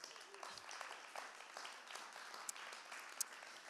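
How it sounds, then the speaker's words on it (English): Theater audience applauding at the Public Theater, a steady spread of clapping held at moderate, slightly distant level, with a couple of sharper claps standing out near the end. "please give yourselves a round of applause."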